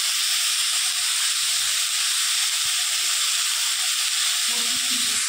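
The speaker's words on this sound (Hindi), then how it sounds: "और दे इसको खूब भूनेगी, ये लाल हो जाएगा सब कुछ।" Food frying in a pan at home, a steady loud hiss and sizzle filling the whole clip, with faint low clatter underneath.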